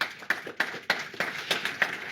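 Scattered, slow handclaps from a small audience at a round-table event on building renovation, a few distinct claps spaced roughly every third of a second, close and sparse rather than a full ovation.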